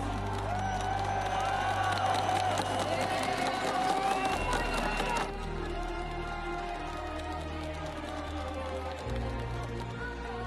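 A large Brazilian crowd at an esports event in Rio roars and cheers continuously, a dense wall of voices, whoops and clapping that stays loud throughout with slight dips, with an announcer-like voice partly audible over it.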